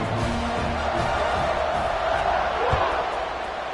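A packed football stadium crowd at a Nebraska versus Duke game roars steadily throughout, a dense wash of distant cheering and shouting with occasional sharp thumps, while a commentator talks over it.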